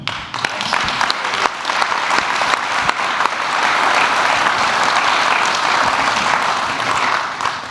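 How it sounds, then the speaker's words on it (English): A conference audience at a founders' business event gives a speaker a long, loud round of applause. Dense clapping swells and holds steady for several seconds with no one speaking. "how about a huge, well-deserved round of applause for Tim?"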